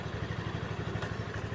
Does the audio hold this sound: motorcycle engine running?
yes